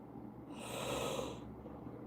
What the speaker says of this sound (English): I got the yawns today, and I don't know why.